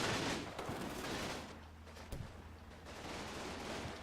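Gunfire exchange in a Combat Mission World War II battle in Normandy, a steady wash of rifle and machine-gun fire with a few sharper shots standing out, continuous and moderately distant with no voices.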